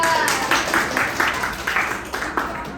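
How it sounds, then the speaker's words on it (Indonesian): A classroom of students claps for a group, a brief burst of close, uneven group applause with scattered individual claps. "Ayo tepuk tangan kelompok 2."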